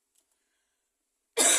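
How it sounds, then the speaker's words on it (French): A cough bursts in abruptly near the end and continues loud and close after a second or so of near silence, with no talking. "si je tousse"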